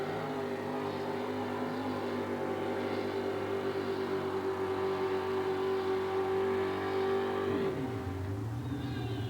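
A 1967 GMC monster truck with a 431 engine roars at full throttle in an arena event, a loud sustained engine howl that holds steady pitch and then drops sharply near the end.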